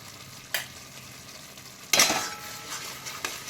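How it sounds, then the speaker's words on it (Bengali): Mixed vegetables stir-fried in a wok with sugar and salt sizzle softly, with a spatula scraping and clinking against the pan in a couple of sharp strokes over a low frying hiss. "এবার আমি আর একটু ভালো করে কষিয়ে নেব"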